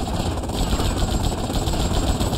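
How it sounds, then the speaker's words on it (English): Steady rotor thumping and engine drone of a helicopter in GTA Vice City, loud and continuous, heavily processed like game audio. "Another helicopter coming in."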